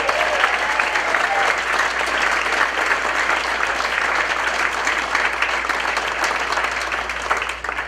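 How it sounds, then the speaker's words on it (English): Sustained audience applause for a school jazz combo that took first place at the Berkeley Jazz Festival, steady and dense clapping held at full level throughout with a faint crowd murmur underneath. "Big round of applause."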